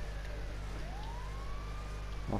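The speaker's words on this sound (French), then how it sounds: "c'est chiant par contre les sirènes là" Police sirens wail in the video game GTA 5, a rising and falling electronic tone carried over a constant low vehicle hum, fairly quiet and unbroken for the whole stretch.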